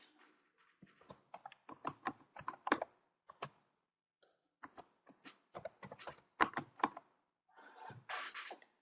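Name being typed on a computer keyboard, with irregular bursts of soft, close keystrokes separated by short pauses and no talking.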